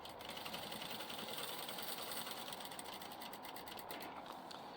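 A sewing machine runs a steady stitching seam along a zipper on a crystal-plastic diaper bag, a fast even mechanical whir with rapid needle clatter, close and continuous, no talk.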